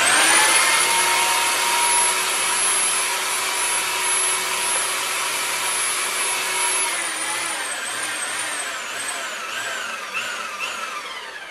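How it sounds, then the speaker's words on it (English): A Harbor Freight handheld pipe threading machine drives a converted slip roll, whining at a steady high pitch close by, then slowing with wavering, dipping tones as it winds down; no talk. "the power unit here is a Harbor Freight pipe threading machine, handheld pipe threading machine"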